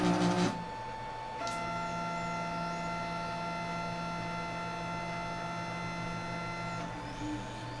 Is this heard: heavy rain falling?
no